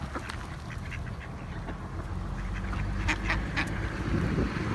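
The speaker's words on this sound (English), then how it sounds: "And what's that? Ducks." Ducks at a waterside feeding spot give a few scattered, fairly faint quacks over steady outdoor background noise, with no talking.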